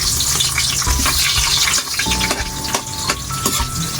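Garlic and onion sauté in a pan for squid adobo, giving a steady, close sizzle and hiss with scraping stirring clatter throughout and no talking.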